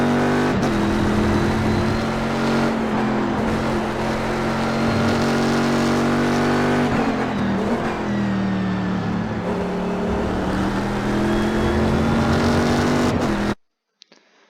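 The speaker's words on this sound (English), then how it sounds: "And there we have a lap around Road America in the Corvette C6R." Corvette C6R race car lapping Road America in the iRacing sim, its engine holding a loud, continuous high-revving drone with gear shifts and brief dips before cutting off abruptly near the end.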